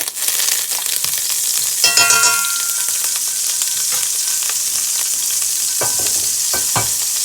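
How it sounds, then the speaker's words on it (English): Butter melting and sizzling in hot oil in a pan while a venison steak dinner is prepared, a steady close frying hiss with scattered crackles and a few brief clinks or stirring taps. "Then I'm gonna add a little bit of butter on here, just a little bit, to add flavor."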